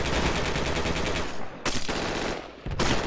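Sustained automatic gunfire in the military shooter Project Reality, with dense rapid bursts very loud and close, broken by two short pauses before firing resumes.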